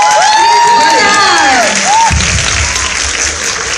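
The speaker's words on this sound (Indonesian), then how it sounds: "Berikan tepukan kepada mereka sekali lagi." An audience at a casual party show responds to a modern dance performance, first with whistles and whoops, then with a burst of loud, close clapping and crowd cheering.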